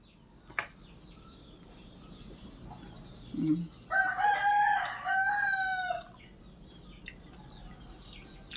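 Rooster crowing in a backyard, one long call rising over a quiet outdoor background, with scattered chicken clucks and faint bird chirps before and after.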